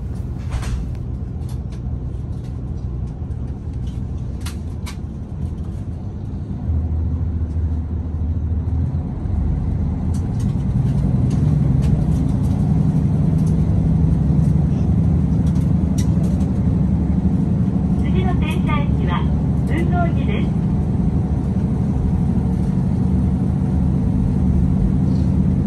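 Non-electrified diesel railcar engine on a JR Kyushu sightseeing express train, a steady low rumbling drone that swells slightly louder midway, heard from inside the car with faint clicks and no talk.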